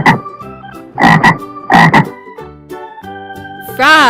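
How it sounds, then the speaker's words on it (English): Frog croaking, with several loud, throaty croaks in a loose rhythm and short pauses between them, ending on a rising, wavering call. "frog,"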